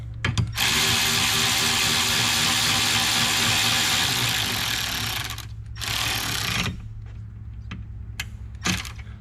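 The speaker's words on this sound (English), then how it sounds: "I'm just going to snug this bolt up for now." A ratchet snugs up a bolt on an oil separator bracket in a 2019 Ram 1500 3.6L: loud, continuous rapid clicking for several seconds, then a pause and a few shorter bursts of ratcheting close by.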